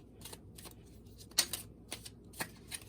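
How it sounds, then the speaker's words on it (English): Tarot cards being shuffled, a series of soft riffling bursts and light clicks at irregular intervals, close and quiet with no voices. "I gotta shuffle until I feel it."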